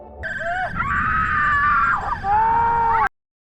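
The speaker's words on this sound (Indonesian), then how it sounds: "para subjek uji menjerit kesakitan" Agonised screaming from human test subjects in pain, several overlapping wailing voices rising and falling continuously for about three seconds before cutting off abruptly into silence.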